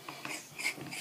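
A knife slicing food into pieces of even thickness, making quick, rhythmic scraping chops in a steady series at close range.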